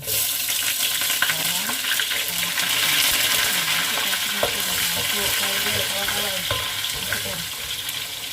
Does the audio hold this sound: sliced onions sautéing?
yes